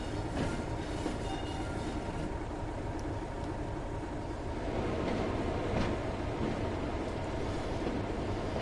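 Locomotive rolling along rails in Train Sim World 2, a steady rumbling drone with faint clicking of wheels over joints and occasional squeals, continuous and fairly loud with no voices.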